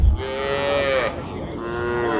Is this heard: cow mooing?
yes